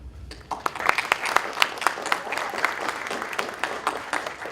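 An audience at a 2015 poetry showcase applauds, scattered individual claps rising into steady moderate clapping with sharp close hand strikes standing out, no voices over it.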